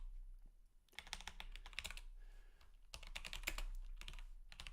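Close, quiet clicking of a computer keyboard as HTML is typed, with irregular bursts of keystrokes separated by short pauses over a low steady hum.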